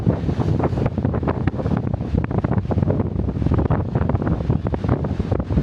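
Strong, steady wind buffets the microphone on the Caminito del Rey cliff walkway in Spain, a constant low roar with gusty surges and no voices.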